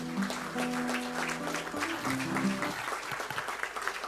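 A standing ovation at a diplomatic celebration marking three decades of South Africa–Nigeria relations: a crowd applauds steadily while a sustained musical tone plays under the clapping.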